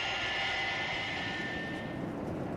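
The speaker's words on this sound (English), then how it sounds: "a shrill jet scream shatters the silence over Muir Island" A shrill jet aircraft engine screams overhead in an animated series, a steady high-pitched roar that holds loud and unbroken, with no voices over it.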